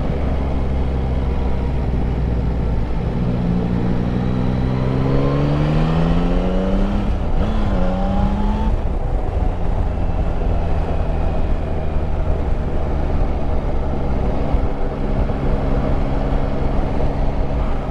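A motorcycle roars along on an evening ride, its engine climbing through rising revs as it accelerates and shifts, with heavy wind rush over a steady road drone throughout.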